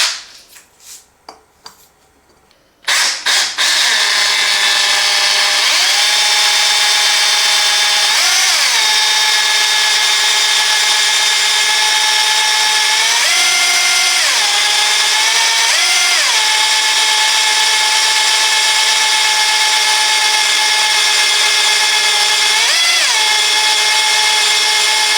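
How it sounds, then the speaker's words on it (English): Parkside PABH 20-li C3 cordless hammer drill boring into metal with an 8mm metal bit, a loud sustained motor whine with slight pitch wobbles as it bites, starting after a few seconds of faint clicks and handling noise. "Now let's test it on this metal, drilling bit for metal"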